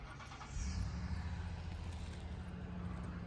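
A car engine hums steadily nearby as cars approach on a road, a low continuous rumble that swells slightly before settling, with no talking.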